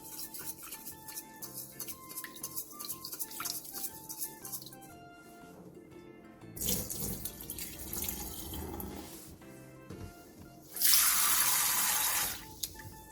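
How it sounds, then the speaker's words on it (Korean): Tap water runs into a sink as rice is washed for baby food, with a soft trickle and splashes building to a louder, steady gush near the end, alone and fairly close. "쌀 3분의 1컵을 깨끗하게 씻은 뒤 2~3시간 정도 담궈 불려놔주세요."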